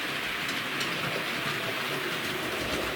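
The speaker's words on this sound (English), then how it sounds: "we're using locomotives and we're going to run this for about 3 or 4 weeks with different trains" A model railway locomotive with its trains runs steadily along the track on a layout, giving a continuous close rolling rumble with faint clicking and no break across the stretch.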